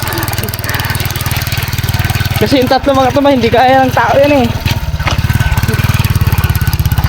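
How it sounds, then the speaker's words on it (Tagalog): A motorcycle engine idles and runs steadily while hauling a load of three hollow concrete blocks, a continuous low drone up close, with people talking over it through the middle. "Malaki din ang tulong ng motor ko."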